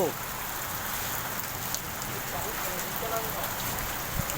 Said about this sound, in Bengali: আর দেখুন বৃষ্টির ফোঁটা।